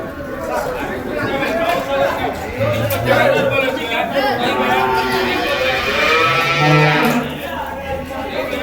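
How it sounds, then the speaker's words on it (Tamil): A large pair of bulls at a busy cattle market in Vaniyambadi, Tirupattur district, lowing a few times, low and drawn out, amid steady crowd chatter and people talking nearby. "நல்லா ஒரு பெரிய காளைங்க ஒரு ஜோடி."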